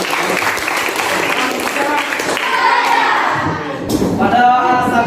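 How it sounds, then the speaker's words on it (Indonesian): Applause from a classroom group right after a closing prayer, steady clapping through the whole stretch with some voices mixed in. "Oke, tepuk tangan untuk kita"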